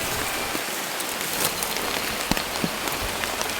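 Heavy rain pouring down and drumming on surfaces, a dense continuous hiss with scattered sharper drop impacts, close and loud, with no speech.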